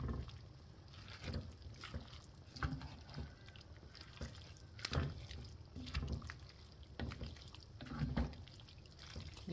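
Chopped spinach being stirred into a homemade soup in a pot: faint wet sloshing and soft clinks of a spoon in liquid, repeating irregularly, quiet and close with no talk.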